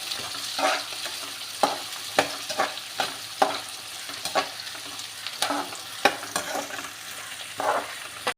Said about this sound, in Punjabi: ਇਹ ਆਪਾਂ ਇਹਨਾਂ ਨੂੰ ਚੰਗੀ ਤਰ੍ਹਾਂ ਮਿਕਸ ਕਰਕੇ ਪਕਾਉਣਾ ਹੈ